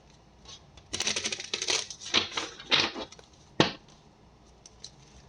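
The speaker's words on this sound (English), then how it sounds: "just going to do a quick shuffle" Deck of cards shuffled by hand: a few quick bursts of riffling and flapping, close and fairly soft, ending in one sharp snap and a couple of faint taps.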